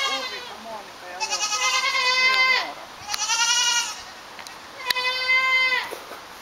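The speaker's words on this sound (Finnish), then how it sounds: "Ne on afrikkalaiset kääpien vuohet." African pygmy goats bleat in several long, wavering calls one after another, close and loud over a quiet farmyard background.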